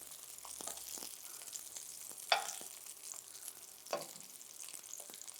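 Summer squash slices browning in a pan give a soft, steady sizzle with faint crackles and a couple of louder clinks or scrapes; no voices.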